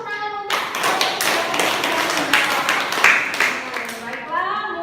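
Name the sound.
audience clapping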